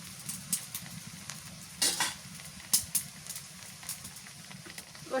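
Chili paste goes into a pan of fried onions for a fish bhuna, with a faint, low sizzle beneath a few sharp clinks and scrapes of a spoon against the pan.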